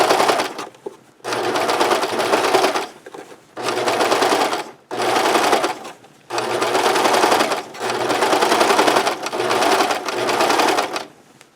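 A sewing machine stitches fabric for a scrub cap in several close, steady bursts of rapid clatter, each lasting a second or two, separated by short pauses.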